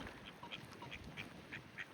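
Several ducks quacking in short, separate calls spread across a steady background, moderately near and fairly quiet, with no talk over them.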